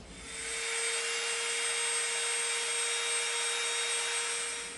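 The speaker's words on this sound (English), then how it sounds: "so let's get our Dremel" A Dremel rotary tool shapes EVA foam for a prop pistol, a steady high-pitched whine rising in and holding for several seconds before easing off, close and alone with no talking.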